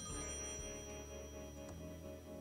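Payphone ringing in the video game Thimbleweed Park, the phone shown as out of order. A steady electronic ring with sustained tones holds throughout, fairly loud and close, with no voices.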